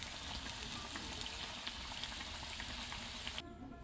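Small fried puti fish stirred in a pan with red amaranth greens, a steady soft hiss of frying with faint scraping, fairly quiet and continuous, then a sudden drop near the end.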